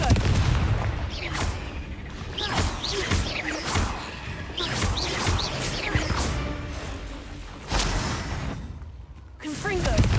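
Confringo blasting spells fire in Hogwarts Legacy, a run of loud, rough explosive bursts in quick succession over constant battle noise.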